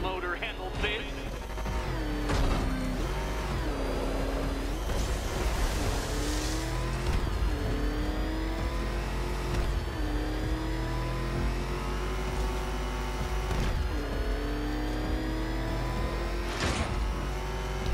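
A ramshackle car motor in Batman Arkham Knight revs and accelerates continuously with a rising and falling engine whine, while voices talk over it.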